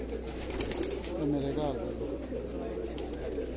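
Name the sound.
cooing of a Shahzor pigeon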